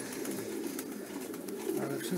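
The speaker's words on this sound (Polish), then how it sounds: "Także teraz już gołąbki się nam tutaj schodzą." Racing pigeons returning to a breeder's loft after a demanding race, with soft cooing and wing movement from nearby birds, steady and low under a faint murmur of background voices.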